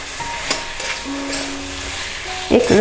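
Tomatoes with salt frying in a pan, a soft sizzle under intermittent scraping stir strokes and a few clicks of the spoon against the pan, close and moderately loud, with no talking.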